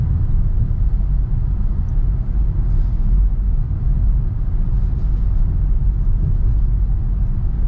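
Cabin of a 2024 Mitsubishi Outlander SUV on the move: a steady, loud low rumble of road and engine noise fills the interior throughout, with no voices.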